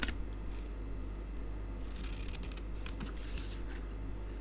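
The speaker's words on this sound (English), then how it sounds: "Scissors." Scissors snip through card stock while making non-traditional Christmas cards, a run of quick close crisp cuts over a steady low hum, with no talking.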